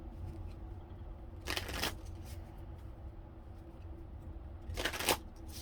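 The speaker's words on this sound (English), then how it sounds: "these cards are so easy to shuffle" Tarot cards are shuffled twice in quick riffling bursts, crisp and close, separated by a few seconds of quiet room noise.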